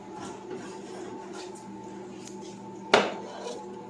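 A baked zucchini dish comes out of the oven: soft kitchen clatter, then a single sharp clank of the pan being set down, with faint handling noises after.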